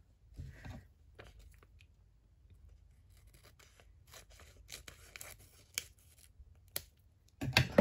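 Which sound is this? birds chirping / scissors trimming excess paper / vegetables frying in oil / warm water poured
scissors trimming excess paper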